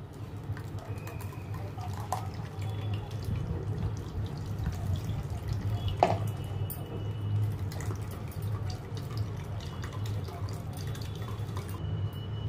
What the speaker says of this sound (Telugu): ఒక బౌల్లోకి ఫిల్టర్ చేసుకుంటున్నాను